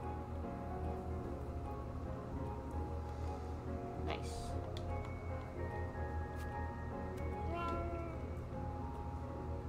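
A cat meows briefly in the Calico video game, a soft digital mew heard once or twice over steady background game music and ambience.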